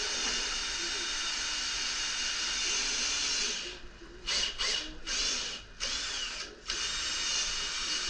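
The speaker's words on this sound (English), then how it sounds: "drill that through." A power drill bores through the resin fin box of a surfboard, a steady high whine broken by several short pauses and restarts near the end.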